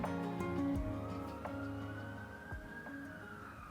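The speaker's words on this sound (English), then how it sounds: "you can hear my siren now" A distant emergency siren wails, its pitch sweeping slowly upward and falling, faint beneath steady city background noise.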